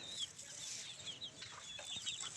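Chickens cluck and squawk close by, their calls scattered over a steady hiss of heavy rain.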